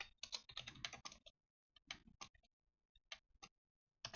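Keys tapped on a lighting console keyboard, close and quiet clicks in a quick cluster, then sparse single presses separated by silence.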